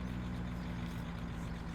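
A truck engine in Farming Simulator 17 idles steadily with a low, continuous rumble and a slight rattle. It holds an even level throughout, with no voices.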